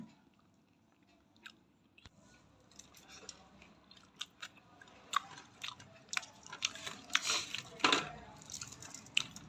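Close, wet chewing and biting of takeaway hotel food with vegetables, a run of irregular crunchy, squishy mouth sounds that grows busier and louder toward the end, without talk.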